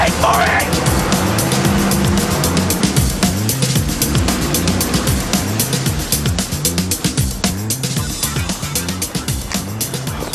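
Car driven away after being taken, loud engine and traffic-like roar with rhythmic pulsing throughout, music or busy mix underneath, no clear talk.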